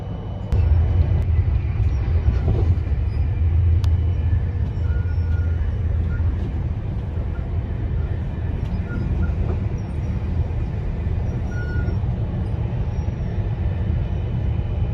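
A Swiss passenger train rolls toward Geneva with a continuous low rumble and steady rail noise from inside the carriage, broken by faint clicks, and a voice speaks briefly.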